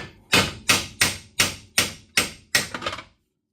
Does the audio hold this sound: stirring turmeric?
no